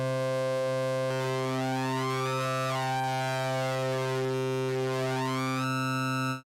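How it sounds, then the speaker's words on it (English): A BIT-2 synthesizer plays a steady tone starting from a sine waveform, with bright overtones sweeping up and down as the sound is reshaped, sustained loud and alone before cutting off abruptly at the end. "if you take a sinus waveform"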